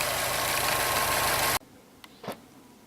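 A 2018 Subaru WRX STI's 2.5 liter turbocharged flat-4 engine idling close by, a steady, throbbing rumble for about a second and a half before it cuts off abruptly, followed by a couple of faint knocks.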